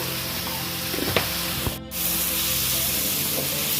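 Loud, steady sizzling of beans and onion frying in a hot pan with salt and turmeric, with a couple of sharp stirring clicks and a brief dip partway through.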